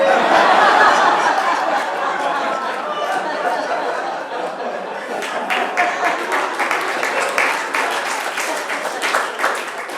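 An audience at a Jewish humor presentation breaks into laughter after a joke, then swells into steady clapping that continues under scattered chuckles and chatter.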